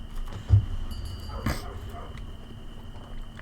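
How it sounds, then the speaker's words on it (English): A single muffled Rottweiler bark sounds at a distance, followed by a softer second one, over a low steady background hum. "my Rottweiler's barking."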